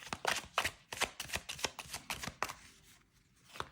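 A deck of retro-style oracle cards is shuffled close up in rapid riffle bursts of crisp card slaps and flutters, followed by a brief pause and a final snap, with no one talking.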